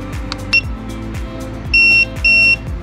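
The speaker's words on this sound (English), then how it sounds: "Hearing that beep tells you that it's been coded" A SAFE-T-TYRE tyre pressure sensor coding tool gives a short electronic blip, then two longer steady beeps in quick succession, loud and clear above a low background hum.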